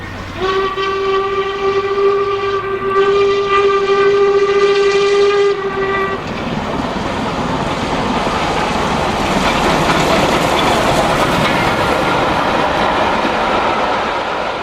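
A steam locomotive on a mainline sounds a long, loud multi-tone whistle for several seconds, then its heavy roar and rushing passage continue steadily as the train runs past.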